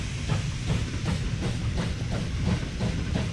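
A train rolling past in the video game Wobbly Life, with a steady hiss of steam and a repeating rhythmic clatter heard close, no speech.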